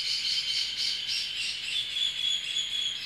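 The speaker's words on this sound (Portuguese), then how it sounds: "Nossa, passarinhos." Dense, continuous high chirping and twittering of many small birds, steady and fairly close, with no talking.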